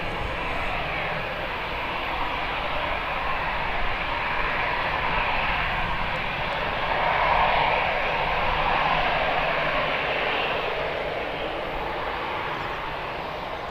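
Airbus airliner at Birmingham Airport, a steady broadband jet roar holding level throughout with a slight swell midway, moderately distant and without talk.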